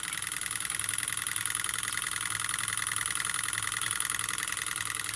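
A small Stirling engine, a PM Research Peanut Rider driving a water pump, runs with a fast, steady mechanical chugging and a high whirring tone, holding an even rhythm throughout.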